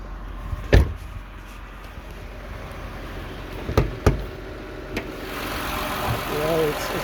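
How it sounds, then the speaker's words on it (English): An Acura TL engine idles steadily with a low rumble, interrupted by a few sharp clicks and knocks close by. "Engine does tick well."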